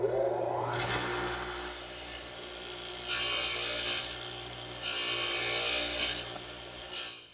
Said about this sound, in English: I'm going to remove the material using my radial arm saw set up with this 2-blade dado head